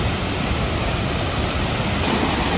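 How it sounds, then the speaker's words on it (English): A waterfall in Wells Grey Provincial Park thunders as a steady, dense roar of falling water, loud and close, with no voices over it. "Here's a better view of the falls."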